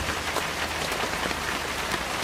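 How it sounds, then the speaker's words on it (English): Steady rain falling in a video game, a dense even hiss of drops on surfaces that stays constant and fairly loud throughout, with no voices. "Listen to the rain."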